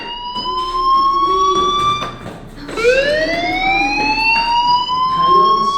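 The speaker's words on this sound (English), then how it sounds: "Hey, do you hear that fire alarm?" A loud electronic fire alarm in the video game Life Is Strange wails in long rising tones, looping repeatedly like a siren, sustained and prominent throughout.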